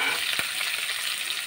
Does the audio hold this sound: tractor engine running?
no